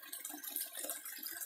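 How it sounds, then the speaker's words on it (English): A clear creek flowing, heard as a faint, steady hiss and trickle of running water, with no voices over it. "the creek is beautiful. It's clear."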